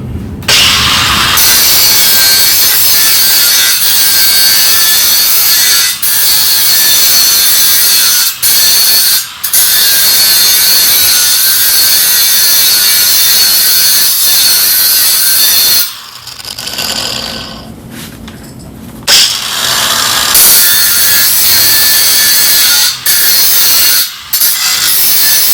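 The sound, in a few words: carving an edge, sawing wood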